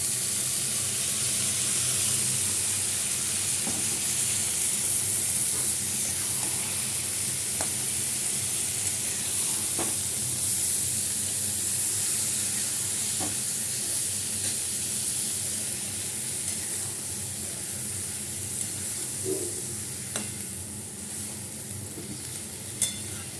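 Boiled banana flower sizzles in a frying pan, a steady close hiss of hot oil with occasional light clicks of stirring, continuous and without talk.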